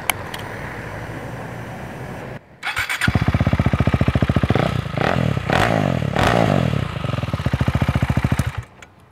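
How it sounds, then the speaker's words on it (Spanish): A KTM Duke 390 motorcycle engine, with the end of its exhaust removed, cranks with a brief whir, then catches and settles into a loud, rapid, throbbing idle with a few sharp blips of throttle. "Vamos a arrancar su moto a ver cómo suena."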